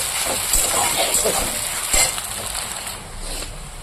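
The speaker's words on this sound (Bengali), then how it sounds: "পেঁয়াজটা তো ভাজা হয়ে গেছে" Onions frying in a pan make a close, crackling sizzle, with a few light clinks and scrapes of stirring.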